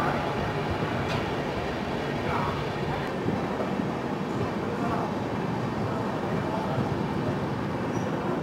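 The Sealdah–Jammu Tawi Humsafar Express runs past Barakar station in West Bengal, a steady rumbling roar of wheels and carriage noise with occasional faint clanks, continuous for the whole stretch.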